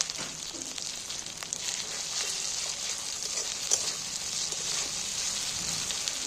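Chili paste sautéing in hot oil gives a continuous crackling sizzle throughout, fairly loud, with occasional stirring scrapes.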